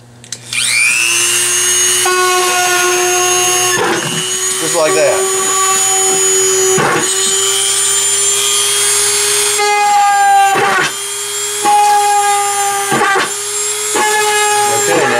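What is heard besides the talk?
Dremel drilling holes in a Dollar Tree plastic bucket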